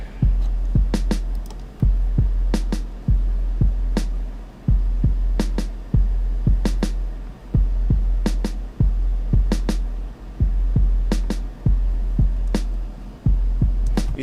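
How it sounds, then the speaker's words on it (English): A snappy snare drum drenched in reverb cracks over a big, round, sustained 808 bass in a produced beat. Sharp hits land in a steady groove, with the deep booming bass pulsing underneath. "You see what adding the reverb to that snare did?"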